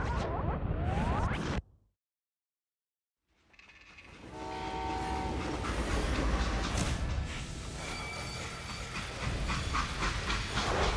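A freight train rolls through the Old West setting of the video game Call of Juarez: Gunslinger. It starts with rail clatter, drops briefly to silence, then returns as a loud, steady rumble with steam hiss and clanking wagons.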